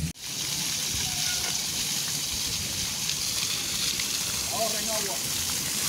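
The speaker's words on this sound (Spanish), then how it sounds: "miren el salidero de agua que hay aquí" Water gushes steadily from a leaking pipe on a street in Santa Clara, Cuba, a continuous broadband rush that holds at even loudness throughout, with faint voices and distant sounds behind it.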